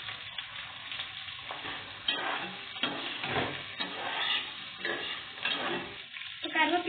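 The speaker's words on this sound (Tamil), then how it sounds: "இப்போ பச்சை மிளகாய் சேர்த்துக்கிறோம்." Green chillies fry with onions in a pan, a close, steady sizzle broken by a spoon stirring and scraping at intervals.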